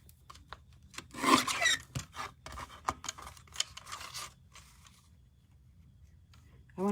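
Scissors cut down material for a craft project in a run of crisp snips and tearing rasps up close, with quieter pauses between strokes toward the end.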